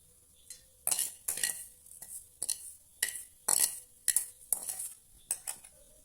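Mashed banana being mixed with a warmed coconut mixture in a bowl: repeated close clinks and scrapes of a utensil in an irregular rhythm, with no talking.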